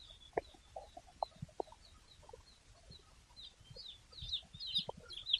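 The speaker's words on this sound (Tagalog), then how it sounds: "Ito yung mga manok, mga sisiw." Chickens and chicks on a farm cluck and cheep softly nearby, scattered low clucks mixing with high, thin peeping that grows busier toward the end.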